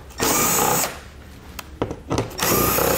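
A power drill backs out 5.5 mm undershield fasteners on a 2019 Lincoln Nautilus, running in two close, steady whirring bursts separated by a short pause with a few light clicks and knocks.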